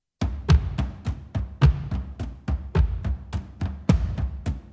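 Punchy cinematic kick drums from the Blueprint Kontakt library, mixed for close mics and sharp transients, thump in a steady pattern of about a dozen deep, tight hits with brief decays, close and alone.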